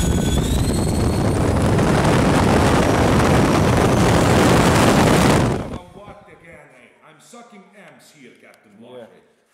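A Durafly ME 001 Fast Poke 70mm EDF jet roars loudly and close at full thrust on a test, a dense whine with high tones that cuts off abruptly, after which people talk.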